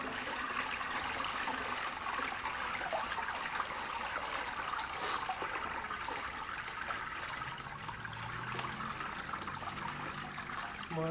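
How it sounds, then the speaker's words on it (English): Excess water poured back into a small homemade recirculating sluice box, a steady, fairly loud rush and trickle that continues throughout with no pauses. "Now, I just dump my excess water back into"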